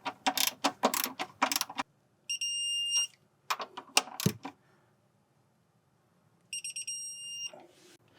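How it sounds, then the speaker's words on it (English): Torque wrench on the rear control arm bushing of a BMW E46, a fast close ratcheting clatter in several bursts, with a shrill electronic tone pulsing twice between them, probably the wrench's torque alert. "we can go ahead and torque down our rear bushing"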